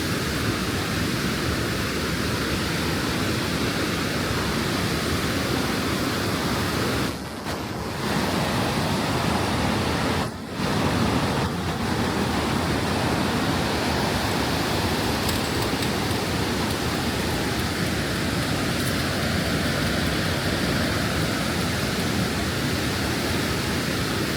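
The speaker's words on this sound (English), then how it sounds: "the ever-present sound of moving water" A steady, loud roar of the Niagara River's rapids fills the whole stretch without letup, with only a couple of brief dips.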